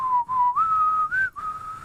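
A person whistles a few sustained, wavering tones with short breaks between them, close to the microphone and alone.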